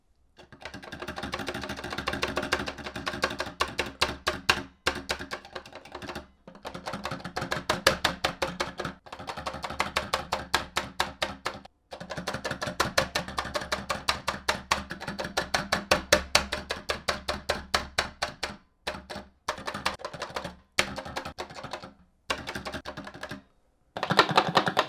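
SANWA arcade buttons fitted with 100 gram springs, hammered in rapid, dense bursts of close plastic clicking with brief pauses between runs.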